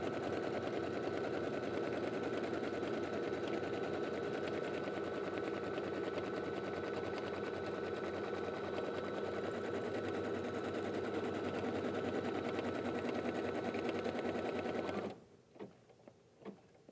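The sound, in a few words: embroidery machine stitching down fabric for gift bag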